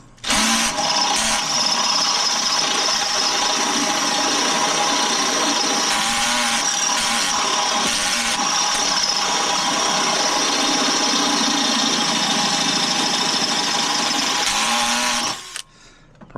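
A power drill whines steadily and loudly for about fifteen seconds, with brief dips in pitch as it bites, then cuts off.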